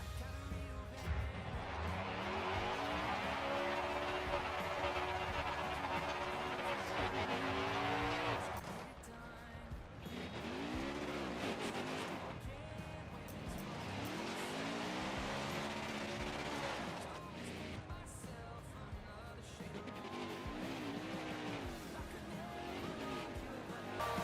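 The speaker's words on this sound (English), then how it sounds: "I'm actually going to go on mute so you can hear the burnouts." Stock cars doing burnouts in NASCAR Heat 5, engines revving hard with rising and falling whine and tire squeal in several long bursts, loud and close with no talking.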